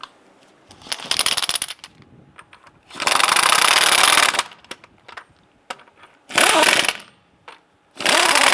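Power tool, likely an impact wrench, snugging down the lug nuts on a 2002-2008 Dodge Ram 1500 rear wheel, with several loud close bursts of whirring and rattling separated by quiet gaps.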